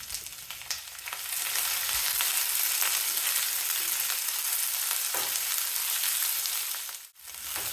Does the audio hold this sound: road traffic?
no